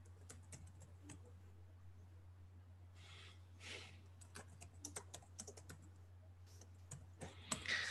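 Keys clack in quick irregular bursts on a computer keyboard, close and fairly quiet over a steady low hum, with a pause partway through before a few louder taps near the end.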